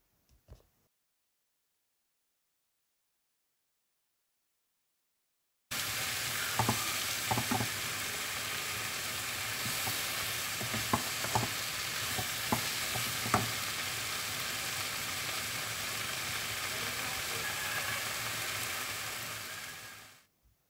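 Potatoes fry in olive oil over medium heat, setting up a dense, constant sizzle after a brief silence. Close clinks and scrapes from occasional stirring cut through, and nobody talks.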